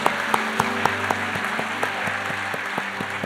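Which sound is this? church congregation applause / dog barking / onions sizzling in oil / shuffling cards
church congregation applause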